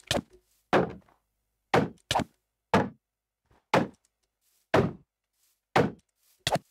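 Blunt, hollow thwacks from a modded Minecraft mob striking in quick pairs, sharp isolated hits spaced by short silences, some landing almost back to back.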